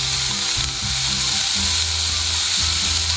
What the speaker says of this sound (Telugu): ఆనియన్ ఫ్రై అయిన తర్వాత చాప్ చేసుకున్న క్యాప్సికమ్,